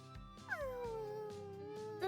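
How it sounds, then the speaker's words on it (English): A video-game wolf girl trapped in a cage lets out a mournful, wavering howl that dips and sustains, followed by a second rising call, over a low background hum. "It howls from within the cage."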